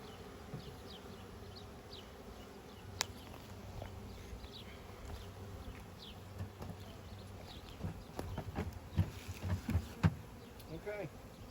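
Honey bees from a 2022 package swarm around a newly installed backyard hive, a steady close buzzing that runs throughout, with a few soft knocks and thumps near the end.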